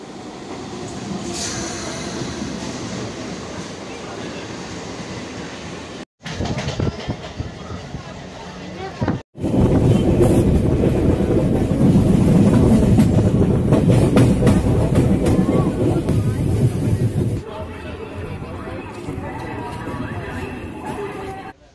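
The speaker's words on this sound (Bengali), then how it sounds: "তো দেখুন, আমাদের লোকাল ট্রেন ঢুকছে, আপনারা দেখতে পাচ্ছেন।" Kolkata local train pulling into a busy station, a loud rumbling roar with rhythmic clatter of carriages over the rails, brief gaps then a sustained heavy rolling noise, with crowd chatter and voices in the background.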